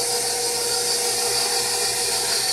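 Electric hand mixer running on low speed while mixing chocolate rum cake batter, a steady continuous whirring hum, close and fairly loud, with no talk.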